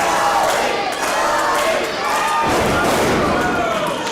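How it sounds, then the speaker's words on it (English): A pro wrestling crowd roars and cheers loudly during a match, with shouting voices swelling and surging throughout, plus a thud partway through and a commentator talking over the din. "And you can hear the crowd now."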